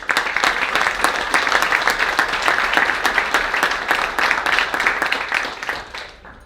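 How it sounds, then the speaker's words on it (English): A crowd applauds the Dean family, Tammy and Kyle, at a ring ceremony, with dense, steady clapping that holds loud throughout and then tapers off at the end. "so I think we should give them a round of applause"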